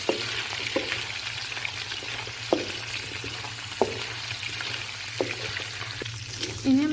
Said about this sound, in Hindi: अब हम इसमें बॉइल्ड चिकन ऐड करेंगे,